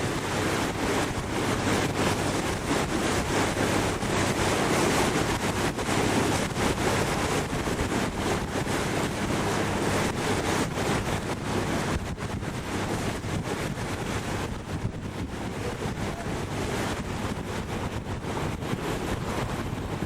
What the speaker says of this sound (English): There are actually rapids over here.